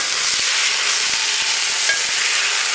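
Beef searing in a hot pan for a cholent stew gives a loud, continuous sizzle, with occasional soft scrapes as the meat is stirred and turned.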